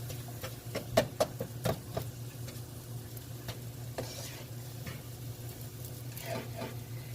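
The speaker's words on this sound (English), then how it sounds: "Now I'm going to go ahead and start mixing it up." Philly cheesesteak meat is stirred in a frying pan over a steady sizzle, with scraping and tapping clicks of the utensil clustered near the start, then quieter continuous frying.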